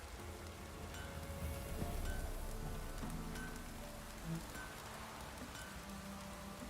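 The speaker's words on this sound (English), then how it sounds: "Proper downpour this is." Heavy downpour in The Witcher 3, a dense steady hiss of rain pattering on surfaces, moderately quiet and continuous, with low ambient game sounds underneath.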